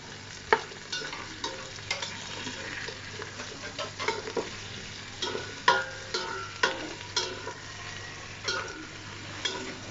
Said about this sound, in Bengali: আমি সবটুকু দিয়ে এখন মশলার সাথে শুটকির সাথে ভালোভাবে সজনে ডাঁটা আলুটাকে নেড়ে চেড়ে নিব